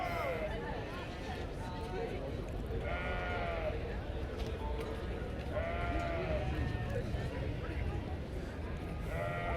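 Dutch Spotted sheep bleat several times in wavering cries, a few seconds apart, over a steady outdoor background at an agricultural show.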